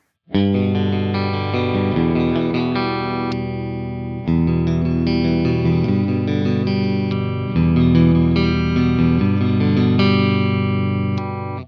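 Clean electric guitar with P90 pickups, a Japanese-made offset, playing sustained strummed chords, bright and ringing, in a few held sections with no talking.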